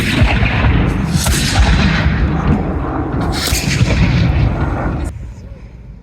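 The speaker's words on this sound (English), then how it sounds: "how a Drake Minion field cannon from the English Civil War is fired and reloaded" An English Civil War Drake Minion field cannon fired by reenactors, a heavy roaring blast and rumbling echo that rolls on for several seconds before fading, with voices faintly underneath.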